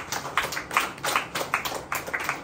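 A church congregation claps in praise in a steady, even rhythm of about seven sharp, moderately close hand claps, with no talk over them.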